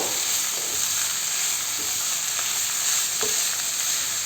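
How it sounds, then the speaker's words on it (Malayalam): Carrot thoran being stirred in a frying pan, a steady hiss of frying under faint scraping of the spoon, alone and close. "ഇനി ഇതിനെ നന്നായിട്ടൊന്ന് ഇളക്കി യോജിപ്പിച്ച് കൊടുക്കുക"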